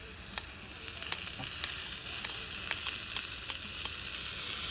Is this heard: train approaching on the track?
no